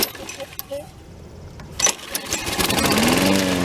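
A Toro Personal Pace 20332 lawn mower with ready start is pull-started: sharp rattling pulls on the cord, then the engine catches and settles into a steady, close running drone. A voice talks over part of it.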